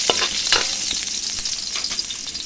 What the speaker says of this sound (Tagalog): Ilunod na nato ang ahos.